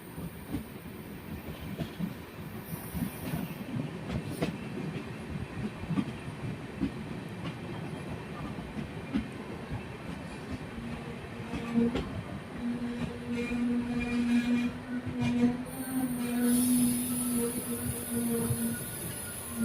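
The Sikkim Mahananda Express rumbles into New Mal Junction, wheels clattering steadily over the rails, ending in a sustained high squeal of braking wheels as it slows.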